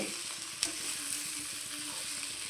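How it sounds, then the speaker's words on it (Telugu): Okra fry sizzles steadily in a pan over a medium flame while being stirred, a continuous close frying hiss with soft scraping strokes and one brief clink. "మనం మీడియం ఫ్లేమ్లో పెట్టుకుని ఇలాగా కలుపుకుంటూనే ఉండాలండి"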